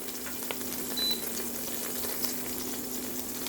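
Ginger frying in a cooking pot for congee, a soft, steady hiss of hot oil with a few faint pops, heard close and alone.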